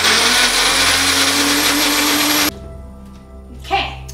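A blender roars loud and close for about two and a half seconds, puréeing onions, garlic, ginger, turmeric and chilies with a little water, then cuts off abruptly, followed by a brief rustle.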